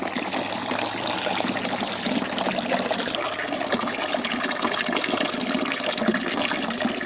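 Liquid pours steadily and splashes into a container nearby for several seconds, a continuous trickling rush with no talk.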